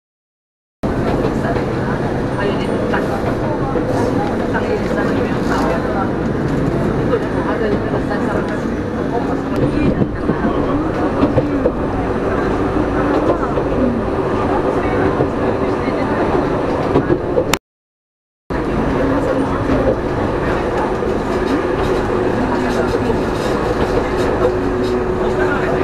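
Train bound for Kurama in Japan running on its rails, a loud continuous rumble and rattle heard from inside the carriage for most of the time, with a brief gap partway through.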